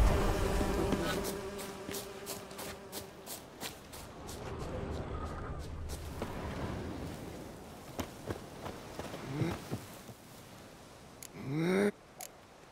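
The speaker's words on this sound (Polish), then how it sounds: "O, pszczoły." Bees buzz in The Witcher 3 video game, a droning insect hum over game ambience with scattered clicks and footsteps, swelling briefly near the end.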